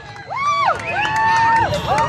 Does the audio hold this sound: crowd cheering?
yes